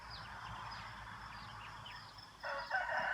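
Faint birds tweet in the background, then a rooster crows loudly near the end, a drawn-out call rising over the morning ambience at a resort near the mountains in Thong Pha Phum, Kanchanaburi, Thailand.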